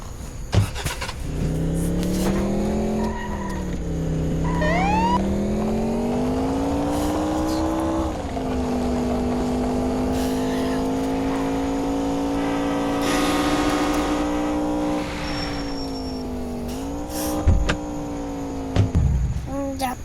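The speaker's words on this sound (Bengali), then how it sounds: "আপাতত পুলিশের গাড়ি করে যাই।" A police car drives in a video game, its engine droning steadily and rising and falling in pitch as it speeds up and slows, with sharp clicks and knocks scattered throughout.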